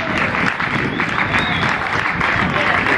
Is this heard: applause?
yes